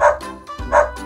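A dog barks twice in quick succession, close and loud, in a short bright bow-wow pattern during a children's alphabet phonics song.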